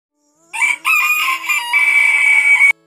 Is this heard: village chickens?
yes